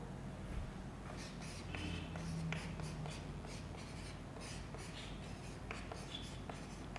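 Chalk or a marker writes on a board during a Class 12 physics lecture on moving charge and magnetism. Faint, repeated short scratching strokes run through a quiet room, with occasional soft speech.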